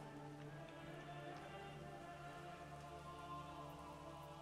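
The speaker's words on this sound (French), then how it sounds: "Voilà, il se met à pleuvoir." Steady rain falls in the medieval city-building game Manor Lords, a constant patter of drops that continues evenly throughout without a break.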